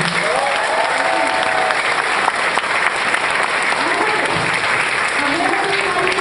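Loud, dense applause from a large audience at a business presentation, continuous and even with voices and cheers mixed into the crowd noise.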